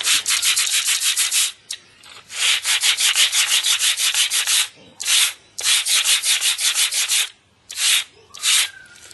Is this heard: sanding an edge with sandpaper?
yes